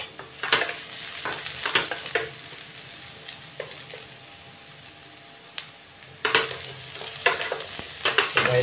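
Onion sautés in a pan for crab relleno, a low sizzle punctuated by repeated sharp scraping clatters of a utensil stirring, quieting in the middle before resuming.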